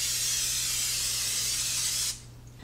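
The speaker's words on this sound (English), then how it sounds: "I'm going to spray the bottom and the sides." A steady, close hiss of aerosol cooking spray into a deep-dish pie plate for about two seconds, then it stops abruptly, leaving faint background hum.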